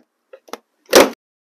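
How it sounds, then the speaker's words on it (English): A Honda Civic rear door panel being popped loose with a plastic pry tool: two faint small clicks, then one sharp, short plastic snap as the clip releases, with silence before and after. "you're going to pull out at the same time and pop the bottom of the door panel here loose"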